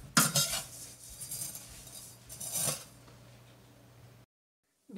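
A spoon stirs crushed vermicelli being lightly fried in a pan for sheer khurma, giving a couple of loud scraping clinks near the start and again mid-clip over a low steady hum, then a sudden cut to silence.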